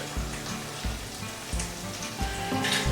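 Eggs and beef frying in hot grease for a breakfast meal prep: a steady, close crackling sizzle with popping spatters and a few louder bursts, with no talking.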